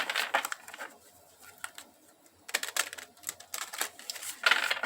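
Soft, rapid papery riffling in short bursts, cards being shuffled close by with brief pauses between rounds.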